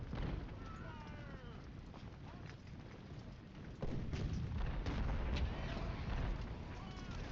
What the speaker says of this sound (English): Now I think we just let the artillery do its job for a little bit